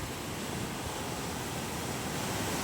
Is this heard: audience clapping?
no